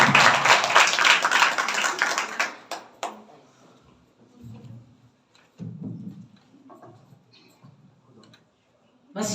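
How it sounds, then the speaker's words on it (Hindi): A church congregation at a Sunday service claps loudly together for about two and a half seconds, a dense burst of many hands that stops abruptly, followed by scattered movement and quiet speech. "खुदा के कलाम के लिए जोर से ताली बजाएं।"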